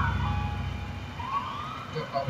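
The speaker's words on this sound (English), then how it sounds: "Should probably not turn your siren on." A police car siren from a South Bohan police game wails steadily and fairly faint, as if from a block or so away, with a rising sweep partway through.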